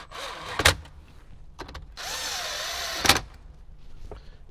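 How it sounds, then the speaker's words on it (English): Inside a Jeep Wrangler, a power tool drives 7mm screws in short bursts. There are a couple of quick zips and one longer whir lasting about a second, close by and moderately loud. "Go ahead and grab the last remaining 7mm screws and get them started."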